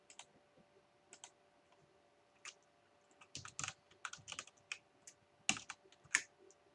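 Someone types a password on a computer keyboard: sparse, quiet keystrokes, at first single clicks, then a quicker cluster of taps over a faint steady hum.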